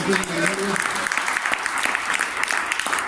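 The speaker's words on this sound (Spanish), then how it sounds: "Hay valientes que le pueden dar un aplauso." A church congregation breaking into applause, many hands clapping densely and steadily, with a voice speaking briefly at the start.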